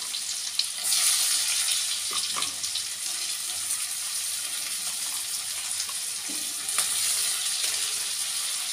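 Chopped onion drops into hot oil for an egg dish, setting off a steady, fairly loud hiss with a few faint clinks underneath.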